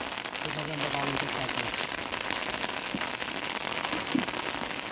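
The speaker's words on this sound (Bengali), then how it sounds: "কি বৃষ্টি শুরু হয়েছে" Rain falling outdoors by a canal or wetland, a steady dense hiss of drops on surfaces that fills the whole stretch at an even level, with a faint low murmur underneath.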